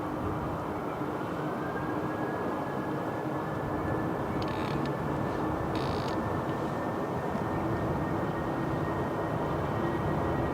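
A British Airways Airbus A320 Classic with IAE 2500 engines spools up for takeoff at a windy Manchester Airport, a steady broadband roar with a rising whine, continuous and loud throughout.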